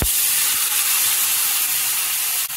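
Dried tofu skin sizzling in a very hot oiled pan, a loud, continuous hissing spatter with a sharp burst as it hits the pan and faint crackles throughout.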